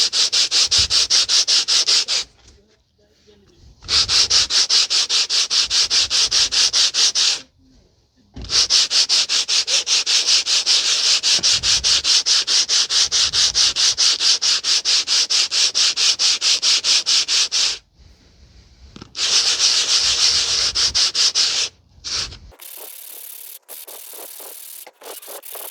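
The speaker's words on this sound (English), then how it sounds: "I'm using the aluminum oxide sandpaper to sand down the pads." Steady, loud abrasive sanding strokes with aluminum oxide sandpaper on a 2019 Honda Civic 2.0 front brake pad, running in long continuous stretches broken by a few short pauses, no talking.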